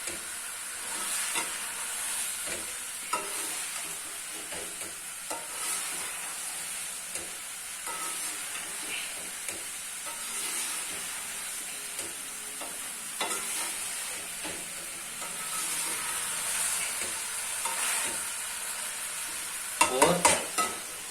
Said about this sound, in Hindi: इस तरह से थोड़ा सा ये सारे मसाले के साथ भिंडी को अच्छे से मिक्स कर लेंगे